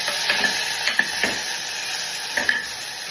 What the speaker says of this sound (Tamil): வெங்காயம் தக்காளி எல்லாம் போட்டு வதக்கிக்கலாம்